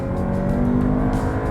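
A 2019 Audi Q3 with an 8-speed automatic under hard acceleration, its engine giving a steady, droning, even note heard from inside the cabin, loud and continuous with no talk.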